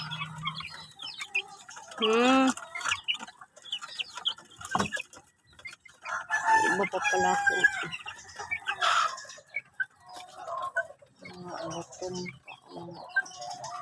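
Chickens at feeding time on a small farm, a mother hen among them, cluck and squawk in busy overlapping bursts, with a rooster-like call rising early, while a person talks briefly between the birds.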